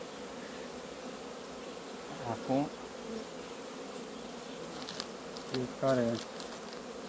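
Honeybees flying outside the hive, a steady faint insect buzz forming a continuous background hum, with brief voices talking over it now and then.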